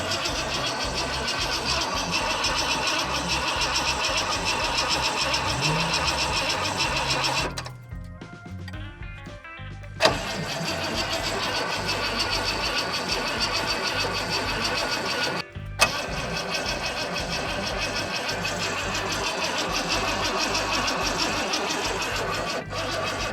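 An old Ford Econoline van from an abandoned-vehicle revival cranks and runs with a steady mechanical drone, broken by a short lull and a few sharp clicks partway through.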